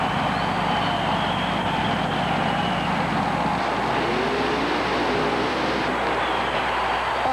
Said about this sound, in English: The supercharged Chevy-powered 1948 Fiat called Gold Fever moves to the line.